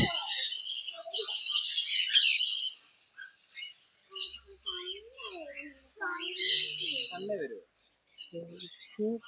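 Parrots at a bird sanctuary in Ooty give sharp chirps, squawks and whistled calls in bursts separated by short pauses, with a voice talking in between.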